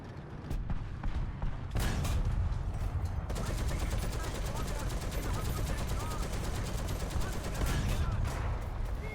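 Tank cannon fire and battle noise from War Thunder, with a captured Sherman, the Pz.Kpfw. M4 748 (a), in the fight. Loud, dense booming bursts start after a brief quieter moment and continue almost without pause.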